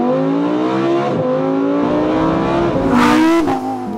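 A high-pitched Lamborghini V10 engine revs hard and steadily, pitch climbing and dipping through several throttle blips, loud and close with no talking.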